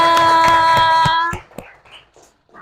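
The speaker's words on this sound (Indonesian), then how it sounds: "Tepuk tangan semuanya." A classroom of children clapping together in a steady, rhythmic pattern over a sustained tone, then the clapping stops abruptly and a few scattered claps and faint sounds follow.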